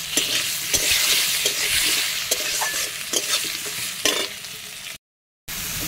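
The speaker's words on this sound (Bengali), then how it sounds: "তেলের ওপর দিয়ে আলুটা আমি একটু লাল লাল করে ভেজে নিচ্ছি" Potatoes frying in oil with five-spice and green chilli, a steady close hiss of sizzling broken by repeated scrapes and clatters of stirring, cutting out briefly near the end.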